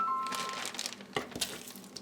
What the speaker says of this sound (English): now I'm just going to add my chicken to the ziploc bag.